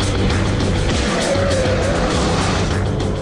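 A Suzuki Swift hot hatch is driven hard through bends with a loud, steady engine and road roar that stays close throughout.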